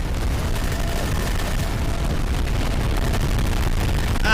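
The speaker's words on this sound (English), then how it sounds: "the fucking bass boosted explosions!" Heavy bass-boosted explosions in the video game Half-Life 2, a continuous loud, distorted low rumble of booming blasts filling the whole stretch with no pauses.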